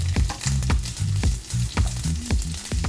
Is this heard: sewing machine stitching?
no